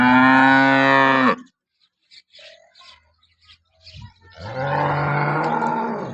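A newly arrived cow lets out two long, loud moos, separated by a quiet pause with small rustling farm sounds.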